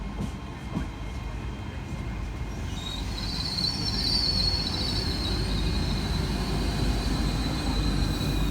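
A GWR Class 802 train passes at Malvern Link station on a Great Malvern to London Paddington service. It comes up as a low, building rumble, then wheel squeal rings out high and sustained as it rolls through.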